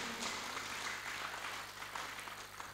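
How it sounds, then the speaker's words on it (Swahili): A church congregation at a Swahili-language service claps together in steady, even applause that sounds fairly faint and distant. "Pigia Yesu makofi mazuri"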